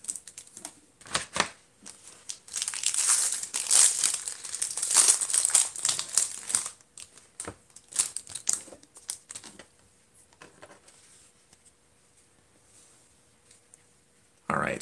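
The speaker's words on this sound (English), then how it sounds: "let's cut that open." A trading card pack wrapper is crinkled and cut open at close range, with crackly handling in bursts, then quieter rustles and a brief final rustle.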